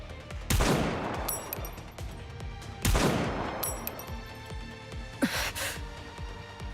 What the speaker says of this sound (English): Eunhwa pulls the trigger.